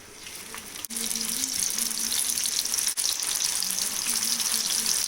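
Thin, raw minced-meat kebabs sizzle in medium-hot oil, giving a steady, dense hiss with a couple of brief dips and crackles.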